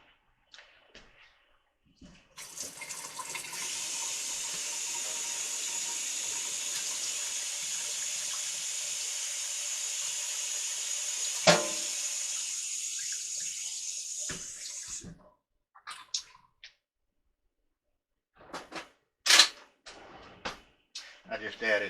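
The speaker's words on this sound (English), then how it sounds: "I just added a little bit of water in the can so it doesn't smell" Water runs from a tap into an empty can for about twelve seconds as a steady hissing gush, then cuts off, followed by a few scattered clinks and handling sounds.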